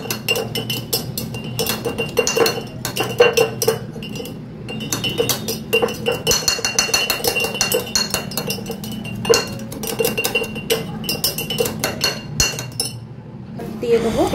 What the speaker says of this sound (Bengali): আমি এটা দিয়ে একটু ভালো করে নাড়াচাড়া একটু থেকে থেকে করে নিচ্ছি।